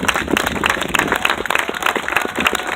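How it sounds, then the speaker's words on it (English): An outdoor crowd at an Old Fort Erie siege reenactment claps for fife and drum volunteers, dense steady applause from many hands throughout. "A round of applause for our fife and drum and other volunteers."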